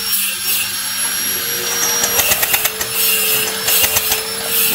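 A Yamaha Aerox scooter engine cranks over with its spark plug removed, giving a steady mechanical whir with a quick series of rhythmic clicks and taps partway through, close and fairly loud with no talking.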